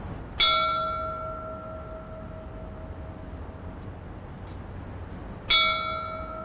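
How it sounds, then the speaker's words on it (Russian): Angel figure on the clock tower of the Gabriadze Theatre in Tbilisi striking its bell, with two clear metallic rings several seconds apart, each decaying slowly over a faint street hum. "Выходит ангелочек, который 3 раза ударит по колокольне."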